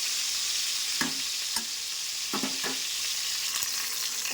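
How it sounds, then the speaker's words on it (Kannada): Brinjal frying in a pan with a steady close sizzle, broken by a few short stirring scrapes and clatters, no voices. "ಈಗ ನಾವು ಫ್ರೈ ಮಾಡ್ತಿರುವ ಬದನೆಕಾಯಿ ಚೆನ್ನಾಗಿ ಫ್ರೈ ಆಗಿದೆ"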